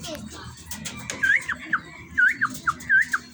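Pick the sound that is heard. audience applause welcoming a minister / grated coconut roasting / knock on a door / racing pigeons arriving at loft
racing pigeons arriving at loft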